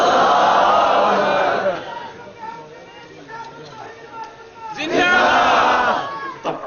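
Crowd at an Urdu religious lecture chants slogans loudly in unison, in two bursts separated by a quieter stretch of scattered voices.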